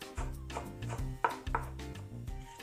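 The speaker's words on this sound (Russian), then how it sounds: "Укропчик нам нужно мелко-мелко нашинковать." A knife finely chopping fresh dill on a board while preparing a lavash roll with salmon and Philadelphia cheese, giving a quick rhythmic run of close, crisp taps with no talking.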